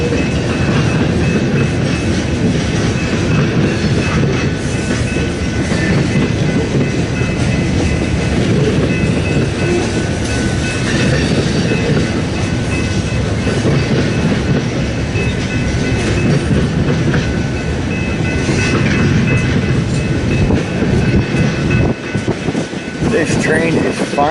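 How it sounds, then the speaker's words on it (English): A train rolls steadily along the rails, heading north, its loud continuous rumble and rhythmic clickety-clack filling the whole stretch, with a voice speaking over it now and then. "This train is finally heading north."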